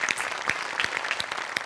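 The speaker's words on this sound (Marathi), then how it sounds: "एकदा त्यांच्यासाठी टाळ्या वाजल्याच पाहिजेत" Audience clapping at a Marathi comedy show, a lively patter of many distinct hand claps with individual sharp slaps audible over a steady background of applause.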